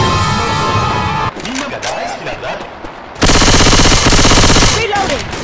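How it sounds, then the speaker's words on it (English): Machine gun fire in the zombie shooter Left 4 Dead 2, a dense rapid burst that cuts in loud and close near the end, after stretches of quieter game noise mixed with shouted voices. "Going with machine gun."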